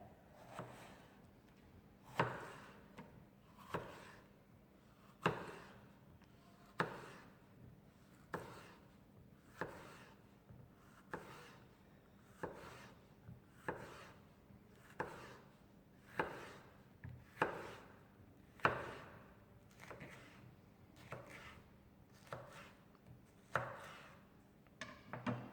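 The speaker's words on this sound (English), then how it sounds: "Slice a capsicum very thinly." A knife slicing a capsicum very thinly on a cutting board for chicken rice paper rolls, a steady series of crisp, regular chops close by, with no talking.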